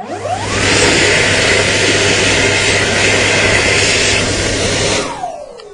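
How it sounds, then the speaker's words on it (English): A loud, steady roaring whoosh of a hand dryer blasting for about five seconds, then cutting off and winding down. "It's a hand dryer."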